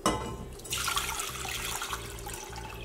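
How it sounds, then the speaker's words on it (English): Tap water runs steadily into a pot for boiling in a home kitchen, a close, continuous rushing splash with no talking. "Take about 3 cups of water."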